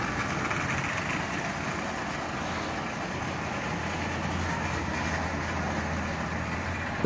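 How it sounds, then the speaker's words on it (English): A Marx toy train motor, its E unit swapped for a forward-neutral-reverse toggle switch, runs in reverse with a steady, fairly quiet whirring hum and no pauses. "Flip it to reverse, and we run backwards."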